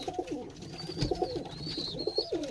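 A large male Baghdadi pigeon coos close by in a repeated, rolling rhythm of soft throaty phrases, with a thin high whistle-like sound drifting in the background and no talking.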